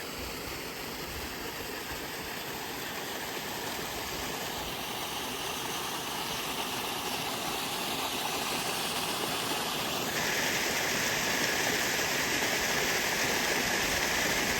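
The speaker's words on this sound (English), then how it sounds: "one of the tallest waterfalls in the Peak District" A tall waterfall on Chunal Moor in the Peak District pours in a constant, hissing rush of falling water, steady and broadband, growing somewhat brighter toward the end with no voices.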